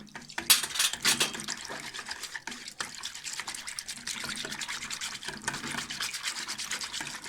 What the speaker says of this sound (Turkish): Şurada bir yemek kaşığı yoğurdum var. Onu da bir çırpalım.